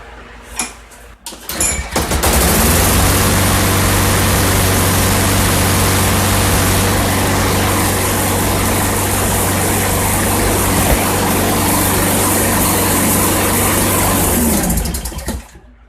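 A Troy-Bilt TB210 gas engine, just fitted with a new pull rope, starts and runs steadily at close range, a loud continuous drone with a low hum that holds for about twelve seconds before cutting off.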